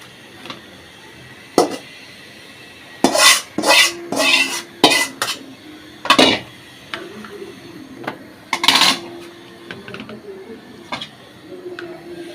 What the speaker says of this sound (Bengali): ঢেলে নেব ওই বাটিতে।